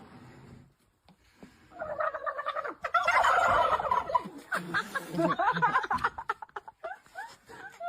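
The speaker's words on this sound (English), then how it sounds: "that's the turkeys" Turkeys gobble in a loud, warbling burst that rises and tumbles over several seconds, with laughter and chatter mixed in around it.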